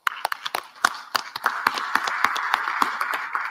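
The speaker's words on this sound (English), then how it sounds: "Please join me in giving them a very hearty round of applause." An audience at an African energy summit in Tanzania claps for a panel, starting with scattered individual claps that quickly build into a dense, steady round of applause, close and fairly loud.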